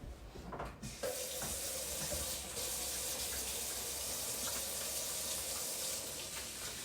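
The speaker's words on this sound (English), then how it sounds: "Let me wash my hands." A kitchen sink faucet runs steadily while hands are washed under it during chicken preparation, a continuous close hiss of flowing water after a few brief handling sounds at the start.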